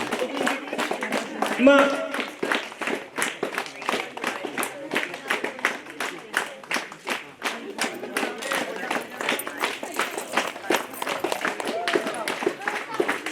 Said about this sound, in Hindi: ताली बजाता